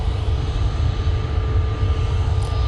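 An EasyJet airliner accelerates along the runway on its takeoff roll, a steady deep engine roar and rumble at moderate distance with no one talking.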